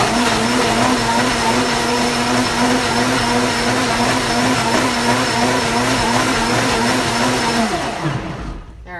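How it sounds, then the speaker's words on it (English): A high-powered blender runs loud and steady for about eight seconds, blending a coconut Thai chicken sauce, then spins down to a stop at the end. "I'm gonna take my blender, set it into here, blend it."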